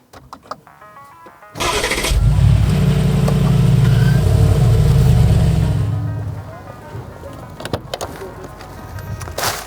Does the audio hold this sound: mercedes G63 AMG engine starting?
yes